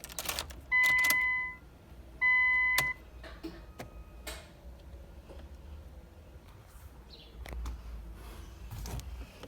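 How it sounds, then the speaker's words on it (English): A key turned in the ignition of a Skyline car: two loud electronic chime tones, then scattered clicks and small mechanical ticks, with a faint whine and a low hum settling in as the dash powers up. "We're gonna turn the key."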